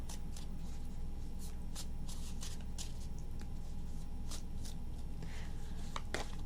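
Tarot deck shuffled repeatedly by hand, crisp papery riffles and snaps coming in irregular bursts, close up over a constant low hum, no voices.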